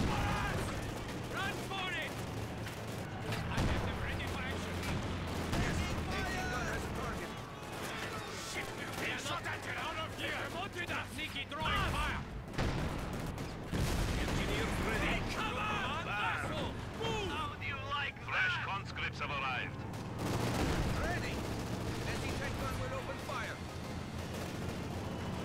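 A heavy machine gun rattles amid a constant wash of battle noise, explosions and vehicle rumble in Company of Heroes 2, a dense, loud barrage that runs under a player's steady commentary.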